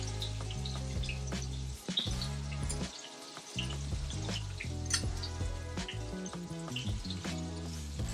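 Corn frying in hot oil, a steady close sizzle and bubbling with a few brief gaps, under a continuous layer of background music.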